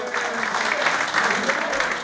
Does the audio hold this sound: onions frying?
no